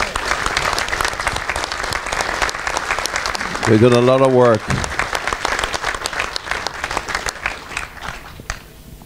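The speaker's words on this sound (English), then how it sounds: "could we have a nice big round of applause, please, for Hans Knott and Dr." Audience applause for Hans Knott and Dr. Martin at a radio day event, steady clapping throughout with someone speaking over it and a brief sung or held tone in the middle.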